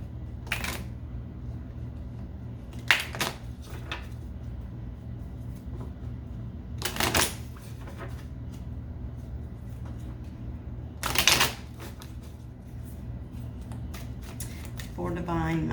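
Oracle cards being shuffled and handled in a few short riffling bursts, at roughly 1, 3, 7 and 11 seconds, over a low steady background hum with occasional faint speech.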